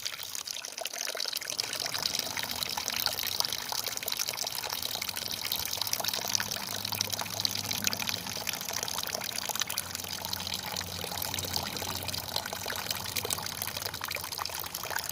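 Dirty, tinted water pours steadily out of a tank, a continuous splashing gush that stays loud and unbroken throughout.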